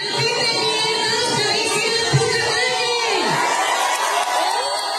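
A theatre crowd shouts and cheers in a dense, continuous roar, with many voices yelling and whooping together at close range, steady throughout with no break.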